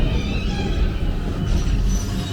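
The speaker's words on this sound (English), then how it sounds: "let's move the train forward behind this pier" Steady rumbling of a train moving forward in a video game set by a pier, a continuous loud rolling drone of wheels and carriage noise with no voices.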